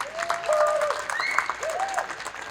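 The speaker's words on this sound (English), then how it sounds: "let's give these women another round of applause" Audience applause for a group of women award winners fills the room at moderate level, with a voice speaking over the clapping throughout.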